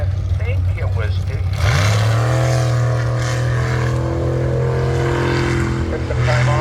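Racing boat engines at the St John boat race make a loud, continuous droning roar that rises in pitch partway through and holds steady, with voices in the background.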